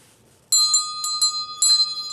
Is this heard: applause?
no